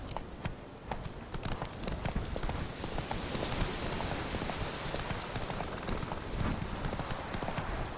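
Hooves of a ridden horse clip-clop in a brisk, steady rhythm, fairly close, with a gritty, noisy texture throughout.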